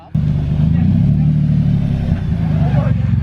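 A drift car on street tires launches hard at a drag strip, the engine roaring loud and close at high revs with a steady, sustained note, while people talk over it.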